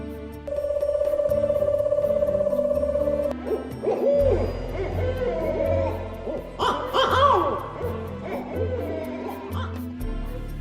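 An owl hoots in a village setting, a long steady tone followed by irregular hoots, with a low hum and crowd noise underneath.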